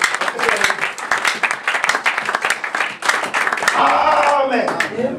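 Congregation applauding and cheering in a church service, dense continuous clapping with voices mixed throughout, rising into louder shouts toward the end.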